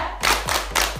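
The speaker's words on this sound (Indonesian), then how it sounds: "Beri tepuk hebat untuk Wina." Group clapping in the 'tepuk hebat' chant for Wina at a village family-development session in Ngawi, East Java, three short bursts of many hands clapping together in rhythm, close and moderately loud.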